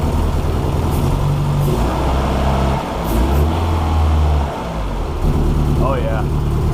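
Honda H22 engine idles loudly close by, its drone swelling and dipping as the throttle is blipped a couple of times, with a voice briefly audible over it.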